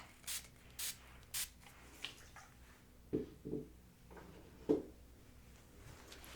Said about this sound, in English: So we'll spray.